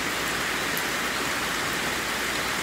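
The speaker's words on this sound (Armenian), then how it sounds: "բայց թե ամեն դեպքում մեր կշտին էլ եկավ այդ անձրևը" Rain falling outdoors in open countryside, a steady, dense hiss of drops with no pauses, loud and continuous from start to finish.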